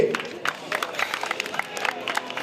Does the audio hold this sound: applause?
yes